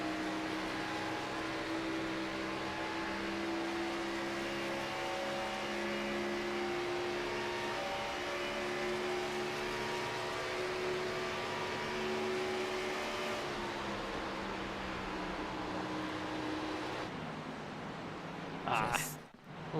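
V8 stock car engines in the iRacing simulation of an Xfinity Series race at Indianapolis, revving at high RPM as a loud, steady, harmonic drone that holds for most of the clip before dropping away near the end.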